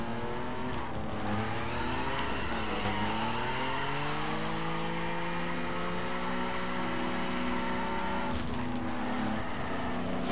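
A car drifts in The Crew video game around Salt Lake City, its engine droning steadily with rising and falling pitch as tires squeal continuously through the slide, loud and close with no talk.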